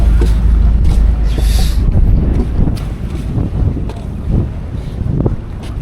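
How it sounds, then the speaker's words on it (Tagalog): Strong northeast monsoon wind roars across an open-sea fishing boat, buffeting the microphone with heavy, continuous low rumble and gusts, with faint water and hull noise beneath. "Malakas yung amihan."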